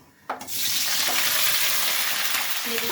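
Black cumin and vegetables hit hot oil in a wok with a sudden loud burst, then settle into a dense, steady sizzle that fills the rest of the moment, with faint stirring clinks.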